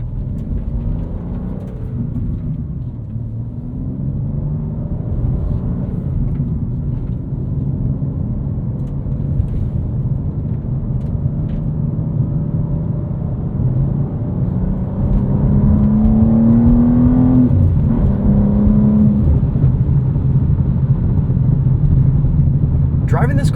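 A 2025 BMW M2 with a six-speed manual and 473 hp cruises along, its engine a steady low drone under constant tire and road roar from Michelin Pilot Sport 4S tires, loud and close from inside the cabin, with a brief rising engine whine partway through.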